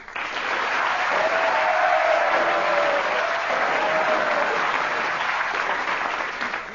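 Studio audience at a radio comedy panel show gives a long, full round of clapping, loud and even from start to finish before tapering slightly at the very end.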